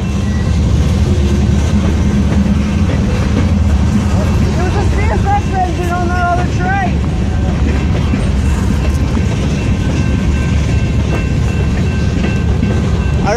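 A CSX freight train with an SD40-2 locomotive passes at Glenns Ferry, giving a steady, close rumble with rail clickety-clack throughout, while voices talk over it.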